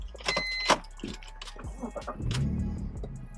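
A BMW E46 330Ci with a six-speed SMG gearbox is started, with a brief starter whir and the engine catching into a low idle rumble, heard close after some keys and clicks.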